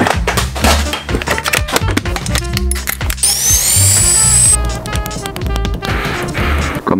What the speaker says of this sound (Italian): In realtà Matteo ha appena trovato una scusa per riprendere in mano il trapano.